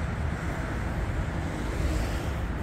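Strong wind blowing steadily outdoors at a flower nursery, a broad continuous roar buffeting the microphone without pause, loud and close, with no voices.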